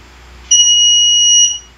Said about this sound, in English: there's the buzzer component that sounded.